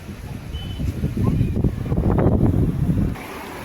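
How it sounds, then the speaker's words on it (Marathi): A swollen river rushes strongly in the rain, heard from a bridge as a dense, low roar mixed with wind buffeting the microphone, swelling in the middle before easing slightly. "नदीचा फ्लो खूप होत आहे आणि पाऊस सुरू आहे"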